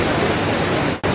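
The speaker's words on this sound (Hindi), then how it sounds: "मंठोका वाटरफॉल पे पहुंच आए हैं जी" Manthoka Waterfall in Skardu, Gilgit-Baltistan, Pakistan, gives a loud, dense roar of rushing water, steady throughout apart from a brief dropout near the end.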